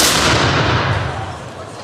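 Ceremonial black powder Böller salute cannon fired by a marksmen's guild squad at a Köthen Schützenfest, producing a loud, dense blast and sustained rolling rumble that fills the moment, with no talking.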